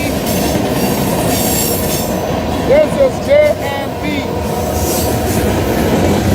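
A moving train rumbles steadily with rail clatter and brief squealing wheel tones in the middle, loud and close, while someone speaks a few words over it.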